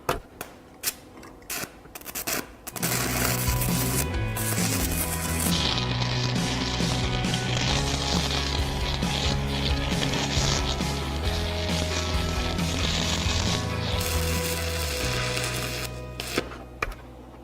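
Stick welding on a cheap Amazon welder with a 1/8 inch 6010 electrode at 90 amps. A few short bursts lead into a loud, steady crackling buzz with a humming undertone, up close, that runs for about ten seconds before the arc drops out.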